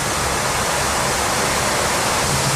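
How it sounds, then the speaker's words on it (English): Main recirculation fans in the nose electronics bay of a Varig Boeing 777-200 produce a steady, loud, broadband whooshing rush that stays even throughout. No one speaks. "this sound you're hearing, like a whoosh, whoosh, is the main recirculation fans"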